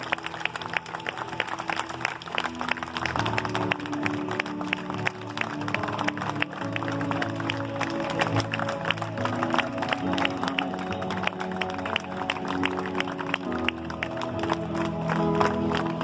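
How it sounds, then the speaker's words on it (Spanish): A church congregation claps for Jesus during a Holy Saturday Easter evangelism gathering, steady prolonged applause from many people with rhythmic accents, some cheering, and music playing underneath. "Vamos a darle un aplauso a Jesús en esta tarde, en este sábado de gloria."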